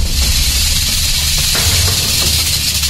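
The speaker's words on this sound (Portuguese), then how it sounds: "Uma cobra cascavel." A rattlesnake gives a steady, loud, broadband hiss with a dry rattling texture, continuous throughout and without any voices.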